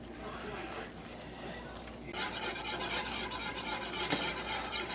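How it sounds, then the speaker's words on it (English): Food being stirred in a pot taken off the heat, a steady scraping rub that turns louder and busier partway through, with a faint sizzle underneath. "now I'm just going to take this off the heat and I'm going to start stirring it in."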